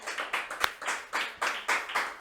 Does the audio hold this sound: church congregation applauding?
yes